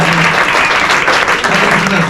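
Applause from an audience: a dense, loud burst of many hands clapping, sustained and even from start to finish, with some crowd voices mixed in.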